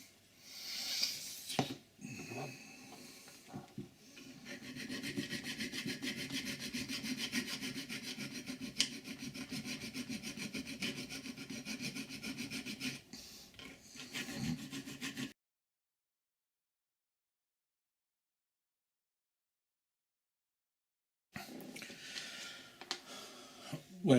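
Hand filing of metal on the chassis cross member of a large-scale model Series 1 Land Rover, a steady rhythmic rasping of repeated strokes close up, broken by a pause and then resuming.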